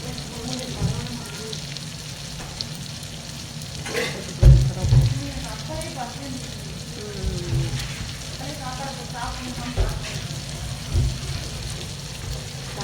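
Seer fish with curry leaves frying in a pan, a continuous crackling sizzle with occasional louder pops and stirring scrapes, close and steady throughout.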